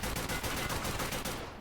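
Rapid gunfire in the Escape from Tarkov Arena shooter game, a sustained burst of closely spaced shots that stays loud and dense almost the whole way before cutting off abruptly near the end.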